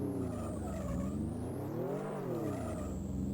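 Racing car engine in the 1993 Amiga game Skidmarks, a steady synthesized whine that rises and falls in pitch as the car laps the track alone, loud and continuous with no talk.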